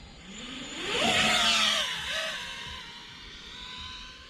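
An FPV quadcopter drone in acro mode whines upward as its motors spin up, peaking loudly with a swooping pitch, then dips and settles into a fainter steady hum as it flies off.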